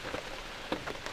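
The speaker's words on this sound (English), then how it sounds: "As soon as we got settled in, the rain started coming down." Steady rain falling outdoors at a bear-hunting setup in Michigan, a soft continuous hiss with scattered louder drops pattering nearby, no voices.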